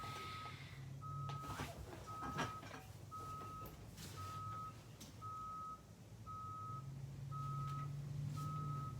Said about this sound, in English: It sounds like there's a bus constantly backing up.